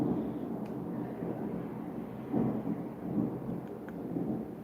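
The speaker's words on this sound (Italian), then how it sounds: "sta tuonando, sta incominciando a piovere un'altra volta" A low rolling rumble of thunder builds and swells in waves as rain begins to fall, steady and fairly loud throughout, with no voices.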